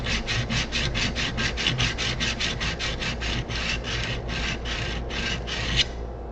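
A woodworking blade is rubbed back and forth on a 300-grit sharpening stone, giving about twenty rapid, even rasping strokes close to the listener, with no voices.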